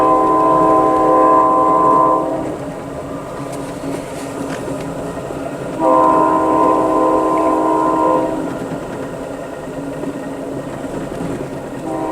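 A train rumbles steadily past nearby, its horn sounding in two long blasts separated by a few seconds of rolling wheel noise.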